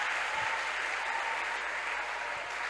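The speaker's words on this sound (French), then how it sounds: "Clap for yourself." Applause from a church congregation, a continuous even wash of many hands clapping at a moderate distance, steady and without pauses, no voices standing out.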